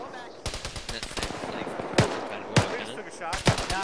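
Machine gun fire in the Arma 3 war game crackles in repeated rapid bursts, some close and sharp, others more distant, with voices talking over the shooting.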